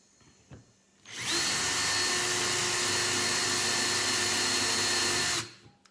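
A power drill whirs steadily at close range for about four seconds, starting and stopping abruptly, with no talking.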